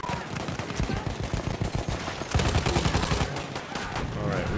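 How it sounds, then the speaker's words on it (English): Machine gun fire in Battlefield 1 multiplayer, rapid rhythmic bursts of shots throughout, loud and close, with a heavier barrage in the second half amid battlefield noise. "Enemy machine gun!"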